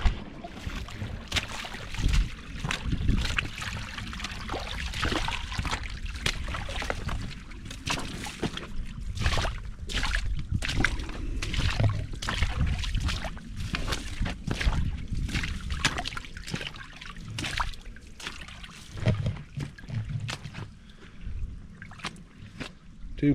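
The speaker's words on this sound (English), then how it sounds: "This water runs down through here real good." Creek water runs steadily where two creeks come together, a continuous close trickle and slosh of flowing water with no voices.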